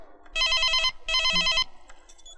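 A telephone rings in two long electronic bursts, bright and fairly loud, with a short gap between them and a faint tail after.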